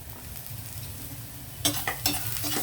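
A pan of raw banana and capsicum with salt sizzles steadily while it is stirred. Near the end, two or three quick scraping strokes of the spoon sound up close.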